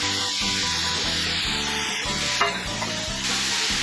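Spinach goes into a pan of sizzling shallots and garlic, giving a steady close frying hiss with rhythmic stirring and scraping throughout, no talk.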